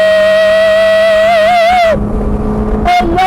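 A Caterham 310R sports car engine while driving, a loud steady tone from the cabin that rises slightly, then drops off sharply before coming back with gear-change-like surges near the end.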